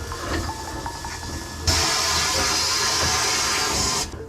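Steam hissing from a heated carburetor cleaning bath, with the fluid at about 50 degrees, for MGA carburetors. A soft background hiss jumps into a loud, steady rushing hiss partway through, then drops off abruptly at the end.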